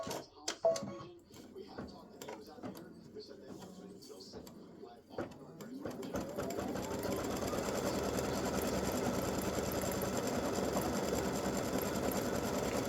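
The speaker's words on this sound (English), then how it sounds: "we're going to stitch all the white on the gift tag." Embroidery machine stitching a free-standing lace awareness ribbon gift tag, starting after a few handling clatters and then running as a steady, continuous mechanical whir at close range, with no talk over it.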